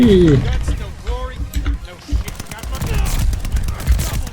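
Rapid gunfire from a shooter video game, bursts of loud close shots and clattering fire that come and go, under excited talk.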